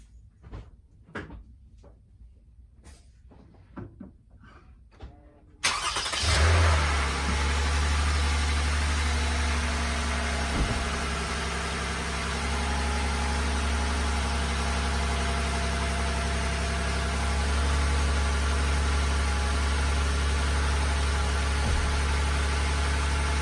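After a few quiet knocks and clicks, a Lexus RX350 SUV engine with a new air filter cranks and starts, then settles into a steady, close idle that continues to the end.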